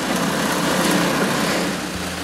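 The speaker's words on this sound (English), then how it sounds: "Then I drill the holes in the center of the support for the assembling screws." A power drill bores holes into a wooden shelf support, giving a constant, close, buzzing whir that runs without pause for the whole moment.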